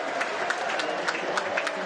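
At full time of a Challenge Cup rugby league match between Whitehaven and St Helens, the crowd at Whitehaven's recreation ground applauds in a loud, steady burst of clapping with scattered distinct claps and a crowd murmur beneath.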